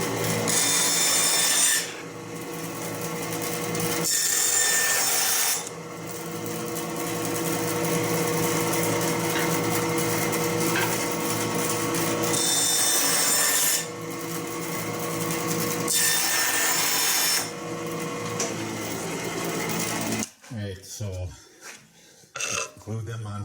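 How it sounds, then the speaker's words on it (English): Power tools cut and sand red wood and walnut pieces, loud sustained abrasive whirring in long bursts separated by short pauses, ending in quieter scraping and handling noise near the close. "I'm going to use this, cut these out, sand it down"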